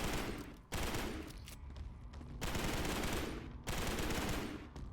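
Gunfire from pistols, shotguns and machine guns with hit-scan shooting in an SCP video game, heard as loud, dense bursts of rapid shots in three long volleys separated by short gaps.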